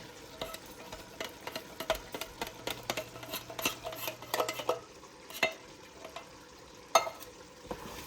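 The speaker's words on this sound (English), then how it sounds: "We'll stir that around." Canned chili beans in chili sauce are stirred in a pot for homemade chili soup. A spoon scrapes and knocks repeatedly against the pot over a soft wet sizzle, close up and with no voices.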